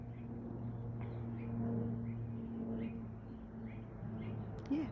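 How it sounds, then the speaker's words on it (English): An airplane passes overhead outdoors as a steady low drone that holds throughout, with small birds chirping faintly around it. "Yeah, that's what a plane sounds like."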